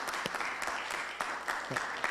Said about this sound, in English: I did promise you the opportunity to applaud with gusto, thanking the candidates for coming out tonight.